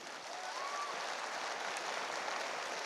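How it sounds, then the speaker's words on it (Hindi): An audience claps for a guru at a direct-selling wellness event, giving a steady, even wash of applause with no voices over it. "मैं चाहूँगा गुरु जी के लिए तो शानदार ताली होनी चाहिए।"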